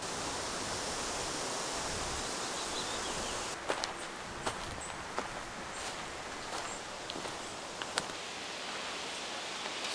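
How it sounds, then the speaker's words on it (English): Rainwater pours steadily off a roof and runs down to the ground behind a summer kitchen under construction, a continuous broadband wash of falling and splashing water with a few sharper drips and taps standing out. "So yeah, the water is coming now down,"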